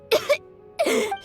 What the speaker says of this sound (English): He kept coughing all the time, just like me.